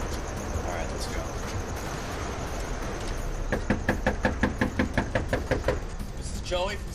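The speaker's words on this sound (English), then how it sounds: "Gonna knock on the door." Knuckles rap on a door about ten times in a quick, steady series, loud and close, with a low rumble underneath.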